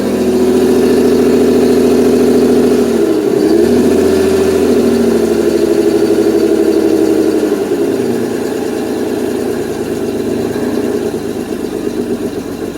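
A 1992 Mercedes 600SEL engine idling on a cold start, loud and close, a steady rumble that dips and wavers briefly as the idle stumbles before settling again.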